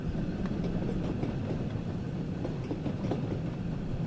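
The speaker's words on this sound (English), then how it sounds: "they must be new track joint sounds" In Train Sim World 2, a train of Mark 1 coaches rolls over rail joints on a heritage line, giving a steady rhythmic clickety-clack of wheel beats over a low rumble, with no talking.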